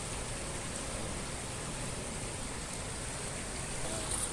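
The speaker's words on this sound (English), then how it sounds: "Still raining." Steady rain falls continuously on a riverside or lakeside spot in Austria, a dense even hiss close by with no voices over it.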